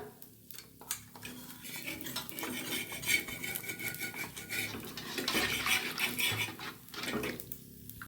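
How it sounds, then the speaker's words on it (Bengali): Gobindobhog rice batter is stirred in a pot, and a metal spoon scrapes and clinks against the sides in a busy, continuous rhythm, close and fairly quiet. "এই গোবিন্দভোগ চালের এইটা ব্যাটারটা খুব ভালো করে নাড়তে হবে"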